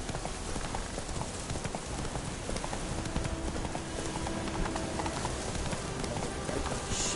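Hoofbeats of Roach, a horse galloping in The Witcher video game, pound in a steady, rapid clip-clop rhythm that runs continuously and loudly for the whole stretch, with no voices over it.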